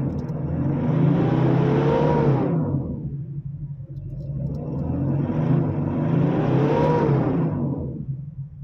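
A car engine running after a timing belt replacement revs up twice in smooth swells, each rising then falling back to a steady rumbling idle, loud and close.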